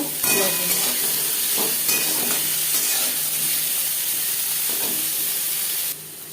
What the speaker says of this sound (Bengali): গাজরের সাথে ডাটা বেশ ভালো করে মিক্স করে দেবো